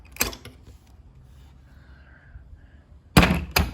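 Metal tools handled at a Honda CRF250L spark plug hole, with a ratchet and extension holding a socket pulled out, giving sharp clacks at the start and a louder clatter near the end, with quiet hiss between.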